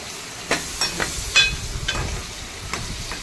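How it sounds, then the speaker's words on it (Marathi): Bottle gourd is stirred into cooked onions in a pan, with a soft sizzle under repeated scraping taps of a spoon at an uneven rhythm, fairly close. "दुधी कांद्यात टाकून मी तो आता व्यवस्थित मिक्स करून घेत आहे"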